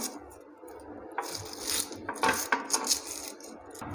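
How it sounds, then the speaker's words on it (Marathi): Onion being chopped with a knife on a board while a recipe is prepared, a loose run of close rasping cuts and scrapes that get busier and denser partway through, with no talk. "त्यानंतर आता आपण इथे कांदा चिरून घेणार आहोत कांदासुद्धा छान असा चिरून घ्यायचा आहे"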